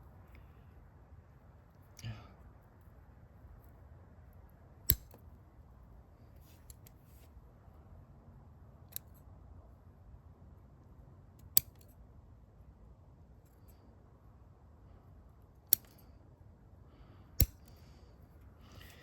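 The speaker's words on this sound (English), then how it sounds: "Could probably get it done with my scissors." Sharp snips of scissors cutting back a bay laurel during repotting, five or six isolated clicks spaced a few seconds apart over a low steady background, close and fairly crisp.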